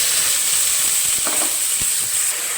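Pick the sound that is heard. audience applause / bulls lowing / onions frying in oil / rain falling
onions frying in oil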